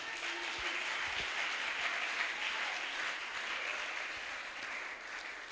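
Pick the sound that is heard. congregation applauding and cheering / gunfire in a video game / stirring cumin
congregation applauding and cheering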